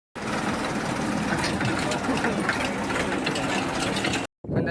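A tractor engine runs steadily close by, a continuous loud mechanical drone that holds for about four seconds before cutting out abruptly, with faint voices beneath.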